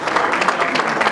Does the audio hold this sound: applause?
yes